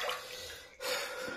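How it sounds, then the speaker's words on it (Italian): A razor blade and razor being rinsed in hot water, a soft sloshing and splashing with a brief pause midway, close but fairly quiet, with no speech. "Passiamo nell'acqua calda la lametta ed il rasoio per addolcire un po' il filo."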